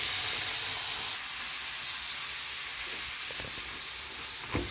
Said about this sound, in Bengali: এই তো মাছটা দিয়ে দিলাম, তেলটা অনেক গরম হয়ে গেছে, মাছটা আমি দিয়ে দিলাম। এখন মাছটা ভাজা হোক